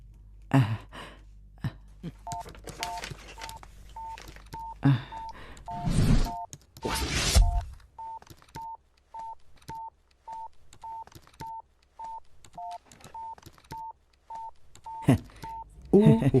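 A string of short electronic keypad tones beeps evenly across the clip, with breathy sighs and a few bumps before the dialing starts.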